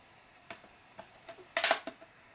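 A blade slices through a polymer clay kaleidoscope cane wrapped in black and purple, making a few light, quiet taps and scrapes followed by one brief, brighter cutting scrape near the end.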